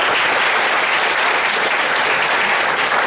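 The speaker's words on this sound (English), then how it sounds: "I crave your indulgence to give a big clap to all the students." An audience at a formal university Rag Day ceremony for an English department claps for the students, a loud, dense and unbroken burst of many hands that stays even from start to finish.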